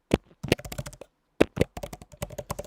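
Rapid, uneven clatter of typing on a computer keyboard, close and fairly quiet, in short bursts with a brief pause near the middle.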